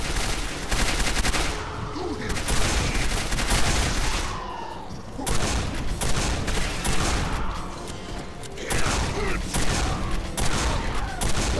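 Rapid gunfire in the shooter video game Quake 4, with dense repeated weapon bursts and heavy volleys in waves across the whole stretch, loud and close with game sounds mixed in.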